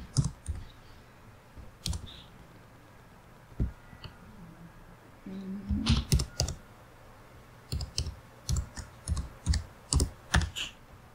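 Typing on a computer keyboard with an English layout while logging in to a web page: clusters of close, crisp key clicks come in short irregular bursts separated by quiet pauses, with no talking.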